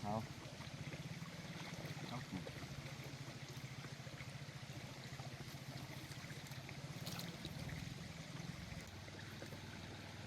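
Floodwater flows steadily through a swollen stream in rural Thailand during a seasonal flood, a continuous rushing and gurgling wash with low rumble, near and fairly loud throughout.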